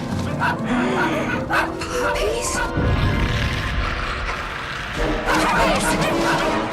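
Several puppies bark and yip excitedly in short bursts, mixed with a crash and voices talking over the commotion.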